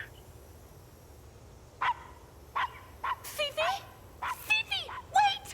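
A tiny dog in the Blue Estate video game giving a series of short, high yips and barks in irregular bursts, fairly close over a low background hum.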